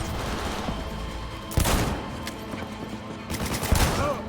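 Gunfire in Cyberpunk 2077 comes as two sharp bursts of shots, one near the middle and one near the end, over a low game background and without speech.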